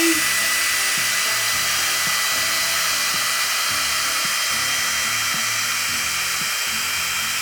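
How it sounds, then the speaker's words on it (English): ghd Duet Style hot air styler running continuously while drying hair, a loud steady airy whoosh with a fluctuating low motor hum, close and unbroken throughout. "I'm just going to go over one final pass just to make sure it's thoroughly dry."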